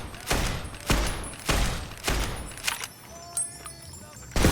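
Gunfire in the video game Fallout New Vegas: several loud, spaced bursts of shots roughly every half second to second, followed by scattered fainter shots and clanks, with no talking over them.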